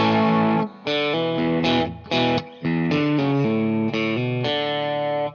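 An overdriven electric guitar plays a riff, with thick distorted notes and chords, short pauses between phrases, and hammer-on fills, loud and close with no talking.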